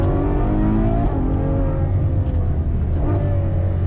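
A Ferrari FF's V12 engine pulls hard under acceleration, a loud, continuous rising roar heard from inside the car, with one brief dip near the middle before the pitch climbs again.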